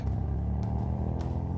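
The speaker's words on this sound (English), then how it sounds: "with the chauffeur-driven car speeding away into the dark" A chauffeur-driven car speeds away into the dark, a steady low engine rumble that holds throughout without pause, fairly loud and close.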